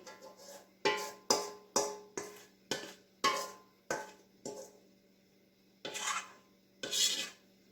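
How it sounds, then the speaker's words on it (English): Cornbread mix scraped out of a bowl into a pan, a series of about ten distinct rasping strokes in an uneven rhythm, close and moderately quiet over a faint steady hum. "I get this scraped out good."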